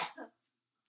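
A single short cough, close and fairly loud, with a second rough burst right after and then silence.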